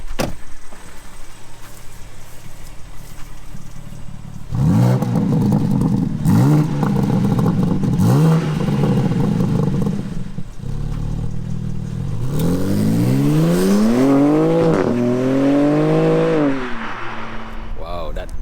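A 2021 BMW G82 M4 Competition with its stock exhaust is driven hard. The engine drones loudly from the cabin, then climbs steeply in pitch through repeated revving pulls and shifts.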